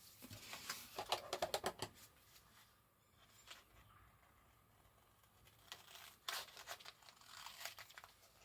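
Paper postcard pieces for a Christmas craft are cut out, giving quiet bursts of rapid crisp snipping and rustling separated by near silence.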